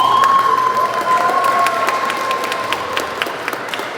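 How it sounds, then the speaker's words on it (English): Applause and light cheering from a crowd at a junior high school awards night for band students, fairly steady clapping that thins gradually, with a faint tonal hum underneath. "Let's hold applause till we get through all the band students, please."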